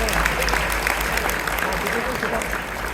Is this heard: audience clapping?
yes